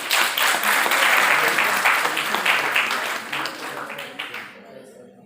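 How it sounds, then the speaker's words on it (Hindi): A crowd applauds steadily at a seminar, a dense wash of clapping that holds loud for several seconds, then thins and fades out toward the end. "लोग एक बार तालियां बजाइए।"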